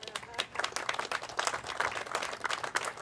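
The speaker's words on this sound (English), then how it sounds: "give them a round of applause" An outdoor crowd at a hotel groundbreaking ceremony claps, with scattered, uneven hand claps of moderate loudness that come in quick irregular bursts from a modest group of people.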